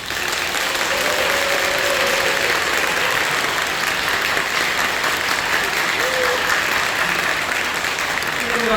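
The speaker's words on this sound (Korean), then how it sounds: "모든 침례 받으신 분들 축하하는 마음으로 뜨겁게 박수해 주시기" Church congregation applauding newly baptized members, a continuous dense roar of clapping from a large crowd, steady and even throughout with faint voices underneath.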